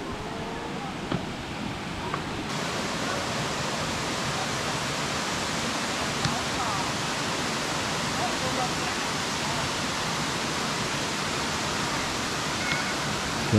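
Mençuna waterfall in the Black Sea region roars in a loud, constant broadband rush that never lets up, with a voice briefly heard.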